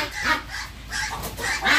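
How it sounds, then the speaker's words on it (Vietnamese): Bầu ducks bought for meat call in loud, repeated honking quacks, several bursts over a couple of seconds with no talk. "Đây là loại vịt bầu vậy."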